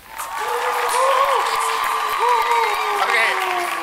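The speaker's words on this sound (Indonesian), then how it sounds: "Kasih tepuk tangan dulu buat nonton." A podcast audience at an Indonesian election-commission event breaks into steady applause, close and continuous for a few seconds, with voices calling out over the clapping.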